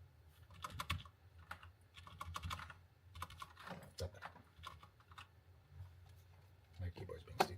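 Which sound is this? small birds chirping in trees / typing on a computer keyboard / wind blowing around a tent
typing on a computer keyboard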